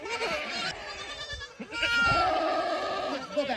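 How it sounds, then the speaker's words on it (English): Goats bleating on a mountain trail near Dharamshala, India, several wavering calls close by, mixed with people talking. "Walking through the goats."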